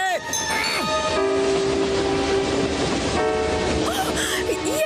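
A train runs along the track with a continuous rumble and clatter, overlaid by steady tonal whines and horn-like notes, close and fairly loud throughout.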